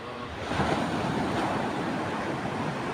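Sea waves washing onto a beach shore, a steady broad rushing wash with some wind buffeting, close and continuous at moderate loudness, with no voices.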